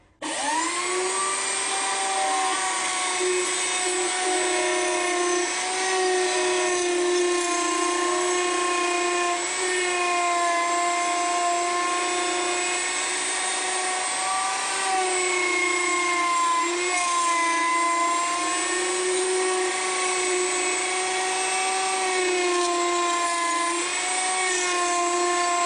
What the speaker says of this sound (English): we're going to fire up the router and then use the trimming bit to cut out the part that we've installed in this sandwich of between the forms